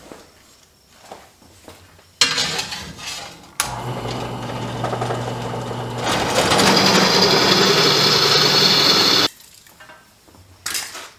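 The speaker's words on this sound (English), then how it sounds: "Now I'm boring the holes on my cheesy little Harbor Freight drill press." A small Harbor Freight benchtop drill press whirs and grinds steadily boring holes in steel, a loud sustained mechanical drone with a harsh cutting hiss, starting and stopping abruptly.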